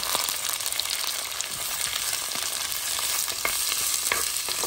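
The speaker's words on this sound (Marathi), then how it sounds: "आनी आतां हे 2 मिडियम सायज कांदो चॉप करून घातला हे भशेन." Two medium chopped onions fry in a pan for a coconut-free South Indian fish curry, giving a dense, continuous close sizzle with scattered crackles and spoon-stirring scrapes throughout.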